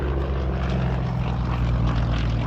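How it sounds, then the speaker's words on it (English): A Yak-52 aerobatic plane with a 360-horsepower radial engine drones loudly and steadily through a vertical climb, a rough, throbbing roar that stays constant and close. "vertical climb there, using every bit of that 360 horsepower"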